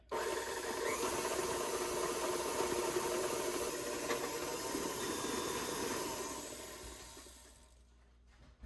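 A kitchen mixer beating spice cake batter until light and fluffy, giving a steady, loud whirring hiss that runs continuously before fading out near the end.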